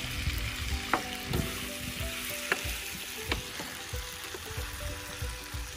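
Eggplant pieces frying and being stirred in a pan while cooking Ilocano-style pinakbet, a steady sizzle with several sharp clinks and scrapes of the spatula against the pan, close and fairly loud with no talking.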